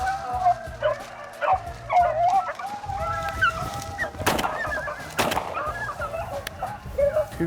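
Pack of hunting dogs barking and yipping while chasing a swamp rabbit, a loud run of overlapping barks and whimpers with bursts of brush noise, under occasional faint talk.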